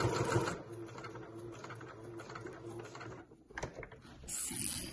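A sewing machine hand-wound through a few stitches on fabric for a fold-over clutch bag gives a faint, soft mechanical whirr with light ticking and a brief pause before a louder burst at the end.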